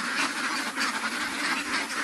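A large flock of ducks on a duck farm quacks continuously, a dense, overlapping chorus of many birds at close range with no pauses.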